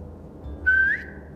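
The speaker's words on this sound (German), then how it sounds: "Jetzt pfeif und befiehl ihr," A single rising whistle is used to command a dog in The Walking Dead video game, one clear, moderately loud note of about a third of a second over a low background rumble.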